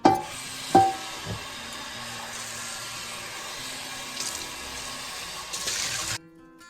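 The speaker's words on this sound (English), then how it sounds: "we're just gonna rinse this off real quick" Fresh blueberries are rinsed under a running kitchen tap, a steady close rush of water lasting several seconds before it cuts off abruptly, with a couple of brief knocks near the start.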